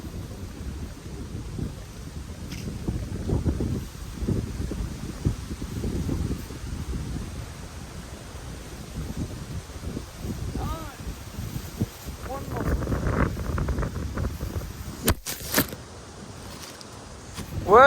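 Strong wind gusts outdoors at a raccoon trapping site, a steady broadband roar that swells and surges for the whole stretch, with low buffeting on the microphone and faint rustling.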